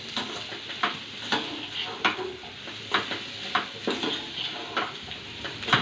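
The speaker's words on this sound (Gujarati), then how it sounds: "આપણે બધું હવે સાતળી નાખીશું. ધીમો ગેસ રાખવાનો, એટલે ધીમા ધીમા ગેસે આપણે હલાવવાનું." Vegetables being sautéed for white sauce pasta in a pan over low gas, with a spoon scraping and clinking against the metal in a steady stirring rhythm under a soft, continuous sizzle, close and fairly quiet.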